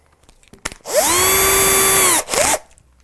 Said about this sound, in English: Now we're not drilling the hole too deep, but we're drilling it deep enough.